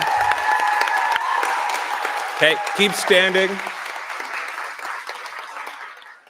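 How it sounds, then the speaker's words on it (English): Audience applause for award winners at a live broadcasters' awards ceremony in Nanaimo, BC: a steady wash of clapping that fades gradually, with a voice speaking over it midway. "A round of applause to these individuals again"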